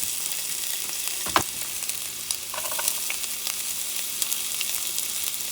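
Onion frying in a pan for Puerto Rican corned beef with pasta, a continuous bright sizzle with a brief knock or clatter early on, no voices.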